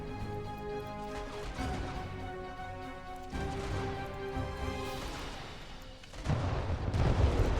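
Artillery fire from an RTS battle in Sanctuary: Shattered Sun, booming impacts rolling under a dense, continuous layer of game music and battle noise, growing louder and heavier toward the end.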